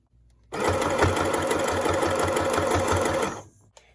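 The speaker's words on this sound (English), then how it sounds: "Top stitch close to the edge." Sewing machine running steadily for about three seconds, top stitching close to the edge of a pleated fabric face mask, with a quick even needle rhythm, starting and stopping abruptly and heard alone.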